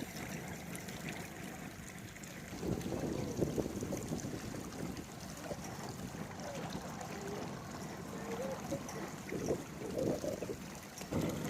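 A Yamaha outboard motor on a duck boat idles roughly and loudly outdoors, a steady low rumble that swells slightly partway through, with wind buffeting the microphone.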